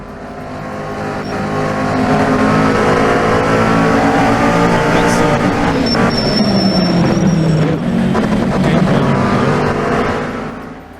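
Loud racing video game car engine, a steady high-pitched drone with pitch sweeps as the car shifts and accelerates, sustained through the whole stretch with music underneath.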